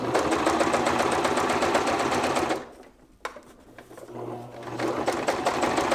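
A sewing machine stitches down a stretch pocket in a loud, rapid, steady whir that stops for a short pause of near-quiet before the stitching starts again.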